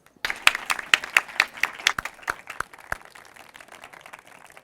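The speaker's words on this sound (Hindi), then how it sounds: "जी जी, जोरदार तालियां।" Clapping from a quiz show audience welcoming a team onto the stage, starting sharply with a burst of claps that thins out and fades to scattered claps.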